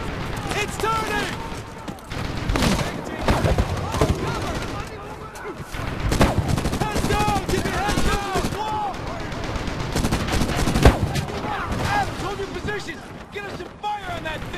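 Dense, continuous gunfire from Medal of Honor Tier 1, with loud overlapping automatic bursts and booms filling the whole stretch while soldiers shout underneath the combat.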